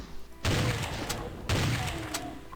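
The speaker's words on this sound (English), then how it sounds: "Like that shotgun sound, how nice and loud though it is" A video game shotgun fires two loud, booming blasts about a second apart, each with a sharp attack and a trailing rumble.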